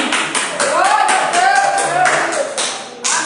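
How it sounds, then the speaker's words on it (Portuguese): A church congregation applauds during a service, steady rhythmic clapping with a voice speaking over it, moderately loud and reverberant. "aplauda o nome do Senhor com alegria"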